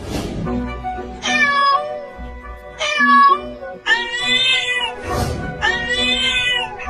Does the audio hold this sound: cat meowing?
yes